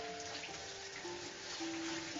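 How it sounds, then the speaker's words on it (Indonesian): A shower sprays water steadily, a faint continuous hiss with a low, even hum under it and no voices. "let us consider water falling from a shower"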